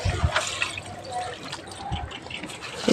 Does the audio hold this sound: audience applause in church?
no